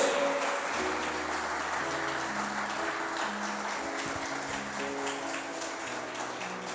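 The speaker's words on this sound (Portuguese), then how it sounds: "Aplauda ao Senhor, glória a Deus" A church congregation applauds during a service, with thick steady clapping under sustained organ or keyboard chords that keep playing throughout.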